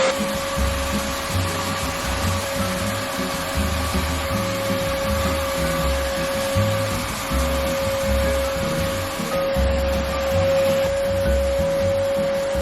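A carpet cleaner machine shampoos a room's carpet with a loud, continuous motorized drone and steady whine, its low rumble pulsing slightly as it is pushed back and forth.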